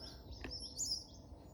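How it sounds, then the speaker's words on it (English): Small birds chirp and twitter outdoors in Australian bushland, with bright, high calls repeating close by over a soft, steady background hiss. "we might show you here all those little birdies"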